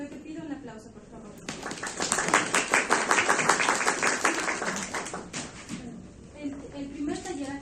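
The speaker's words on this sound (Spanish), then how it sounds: "para lo que pido un aplauso" Audience applause at a university education workshop, dense clapping swelling up after a moment of talk, holding steady for several seconds, then fading as a voice returns.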